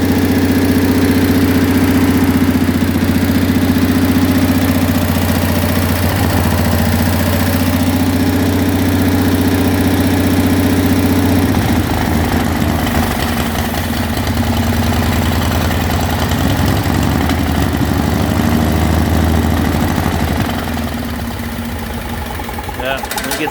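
Kohler 7000 W generator engine running on brake cleaner, a loud steady close-up drone with a humming, slightly rough idle that dips a little near the end, with someone talking over it.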